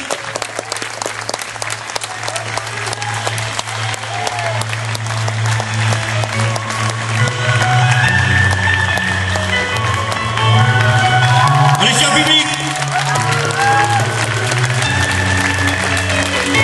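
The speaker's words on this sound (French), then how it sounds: "Eh bien, on va les applaudir, Mylène et David." An audience at an outdoor event in Cazaubon claps and applauds, a dense crackling ovation that swells and stays loud, with a voice and background music running underneath.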